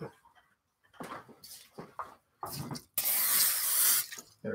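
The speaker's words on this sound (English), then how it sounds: "I am going to spray this first, just a little bit" A sustained broadband hiss of an aerosol spray from about three seconds in, loud and steady, after a few shorter rustling and clattering sounds.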